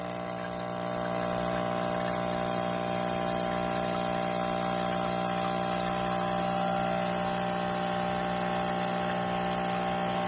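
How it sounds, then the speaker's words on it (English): A DeLonghi Caffe Venezia espresso machine's pump runs steadily and loudly throughout, a continuous buzzing drone with strong tonal hum, close to the microphone and without talk. "These pumps are designed to run for about a minute, and then they need to cool down."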